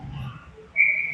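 Referee's whistle at an ice hockey game, one sharp shrill blast sounding in the second half over faint arena noise.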